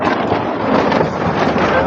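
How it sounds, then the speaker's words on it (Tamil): Strong wind buffets an open-air roadside fish eatery, a loud continuous gusting roar of wind noise on the microphone. "சவுண்டை பாருங்கள், காற்று வந்து அப்படி அடிக்குதுப்பா."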